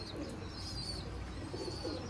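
A Sialkoti Sheikhan breeder pigeon coos softly in a few low, rolling phrases, with faint chirps and steady background noise, and no voices.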